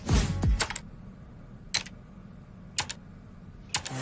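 Quick bursts of typing on a computer keyboard, picked up as an office worker is being monitored: a busy flurry of keystrokes at the start, then three short separate clusters of taps at steady gaps, close and fairly quiet.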